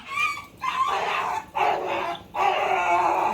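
A frightened, mistreated dog with an injured leg in Jogindar Nagar, Mandi, gives three drawn-out, high yelping cries separated by brief pauses, loud and close, with no talking.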